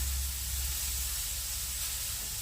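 Eggplant slices frying in a pan of oil give a steady, close, even sizzle and hiss, with no voices over it.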